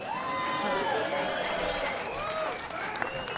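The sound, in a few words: audience clapping at a comedy show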